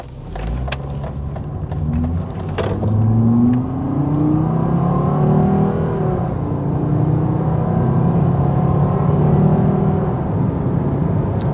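Volvo S80 five-cylinder engine revving hard and close, pitch climbing through rising harmonics then holding a steady, loud drone with a brief dip around the middle.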